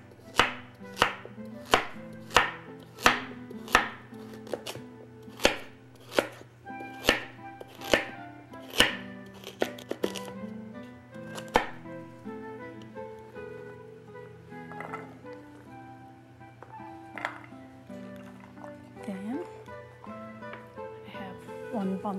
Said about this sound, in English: We'll slice the other 2 carrots.